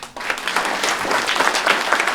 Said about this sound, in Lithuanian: Aplodismentai Angelei, jie tikrai jų verta.